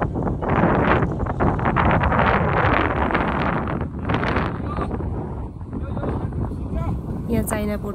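Strong wind at the China-Nepal border in Upper Mustang buffets the microphone with continuous loud rumbling gusts, while voices talk underneath.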